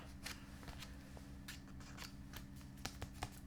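Scissors snipping through plastic packaging, a handful of quiet, sharp cuts scattered over a steady low background hum, with no one speaking.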